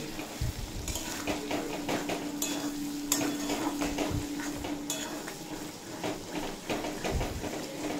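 Boiled and fried potatoes are stirred into a spice masala with peas in a pan for aloo dum, giving steady metallic scraping and clinking of a spoon against the pan with a few sharper knocks throughout.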